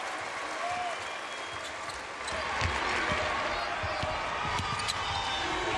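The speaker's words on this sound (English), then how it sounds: "listen to this crowd" Arena crowd at the 2017 Big South basketball championship final between Campbell and Winthrop roars and applauds, a broad continuous din that swells louder midway, with sneaker squeaks and a commentator's voice underneath.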